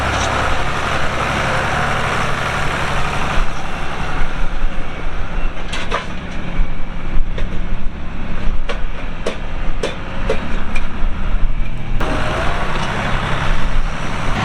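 A VW vehicle moving hay up from the back pastures, its engine a steady low rumble throughout with scattered clunks and rattles in the middle stretch.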